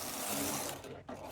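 Knitting machine carriage knitting rows on a baby sweater, a steady loud mechanical whirring rasp that runs for about a second before briefly dropping out and resuming, with no talking.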